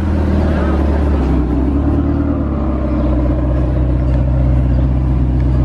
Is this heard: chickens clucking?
no